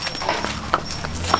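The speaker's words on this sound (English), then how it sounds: "No, don't go behind the horse, buddy. He will kick you." Horse hooves clip-clop on pavement during a horse-riding outing in New York City, a few sharp, distinct steps spaced irregularly over a steady background of city noise.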